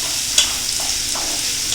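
Two finely chopped onions fry in a pan, giving a steady hissing sizzle with a brief scrape of stirring near the start and no voices.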